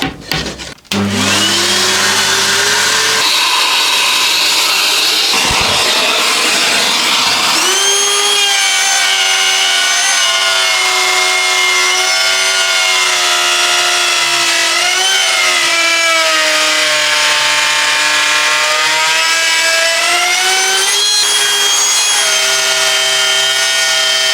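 A Makita RP001G cordless XGT plunge router spins up with a rising whine and cuts into wood, a loud, sustained high-pitched motor scream that shifts in pitch under load, with a vacuum cleaner droning alongside.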